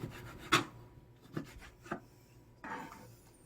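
A knife cuts through squid flesh on a cutting board for sashimi, making a few separate soft scraping slices spread over a few seconds, close and fairly quiet.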